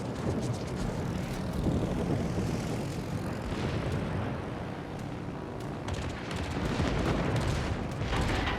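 A fighter plane takes off in the World of Warships naval game, its propeller engine droning steadily and loudly throughout, mixed with bursts of gunfire and explosions.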